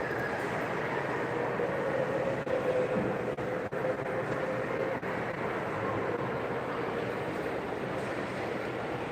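Zephyr streamlined train running, a steady loud rumble with a sustained tonal hum and no talk.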